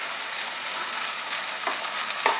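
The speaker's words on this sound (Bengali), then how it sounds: "ভেন্ডি আর পেঁয়াজটা ভাজা ভাজা হয়ে গেছে।" Okra and onion fry in a kadai for a Bengali bhindi do pyaza, giving a steady close broadband sizzle with two brief scraping stirs near the end and no talk.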